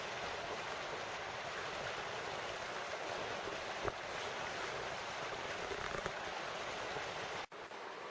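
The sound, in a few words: creek water flowing beside the Appalachian Trail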